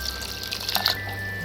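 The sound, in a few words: pouring a cup of water into jaggery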